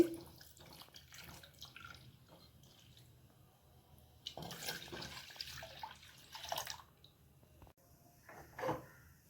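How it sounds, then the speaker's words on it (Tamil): Water pours and splashes into a clay pot in a home kitchen, a steady trickling stream with brief louder gushes and drips, fairly close and moderately quiet. "இப்போ இந்த மண் பாத்திரத்தில் ஃபஸ்ட்டு கொஞ்சம் தண்ணி ஊற்றுதே."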